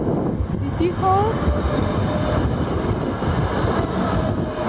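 A tram rumbles past on a busy street in Warsaw, Poland, with a brief metallic squeal of wheels over constant traffic noise.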